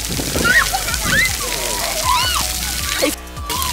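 Water sloshes and splashes as a small electronic device is pushed underwater, a continuous churning close by with a person talking over it before a brief muffled pause.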